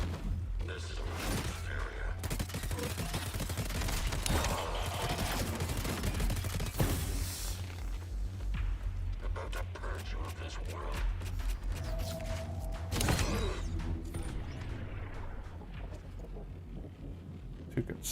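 Rocket launchers in the Metal Eden game demo fire amid a dense, continuous barrage of booming blasts and mechanical clatter, with someone talking over much of the action.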